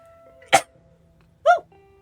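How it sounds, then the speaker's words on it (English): Two short explosive bursts from one person, a sneeze-like burst followed about a second later by another, close and fairly loud in a quiet room. "I'm going to sneeze."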